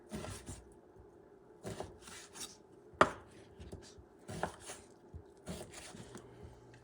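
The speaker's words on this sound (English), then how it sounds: "So what I like to do, I like to cut it in half. And then I'm going to cut" A knife cutting hard salchichón sausage into pieces on a board, several distinct chopping thuds and rough sawing strokes in irregular bursts, with one sharp knock partway through, close and fairly quiet.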